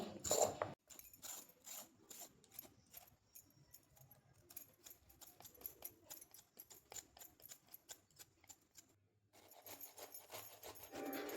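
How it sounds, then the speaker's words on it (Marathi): Thin skin peeled off washed carrots with a peeler, a close run of short, quick rasping scrapes in an irregular rhythm, with a brief pause near the end before the scraping resumes, no voices. "इथं गाजरं स्वच्छ धुवून झालेत आता जी वरची साल आहे ती पातळ पातळ काढून घेते"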